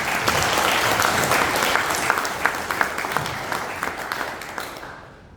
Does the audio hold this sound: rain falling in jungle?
no